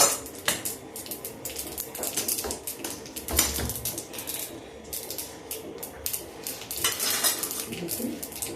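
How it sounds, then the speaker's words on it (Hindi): Chilli, cumin, mustard seed and asafoetida tempering in a pan over a low gas flame in a village-style kitchen, giving a steady sizzle with scattered clinks and scrapes of a utensil against the pan, close and moderately loud. "ये मिर्चा, जीरा, राई और हींग का तड़का ये देखिए।"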